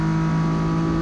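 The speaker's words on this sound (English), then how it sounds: "Coming down the straightaway, flipping through the gears here." A Ford race car on a track, detuned by about 100 horsepower, drives down the straightaway under acceleration, its engine holding a loud, steady, close-up drone throughout the brief moment.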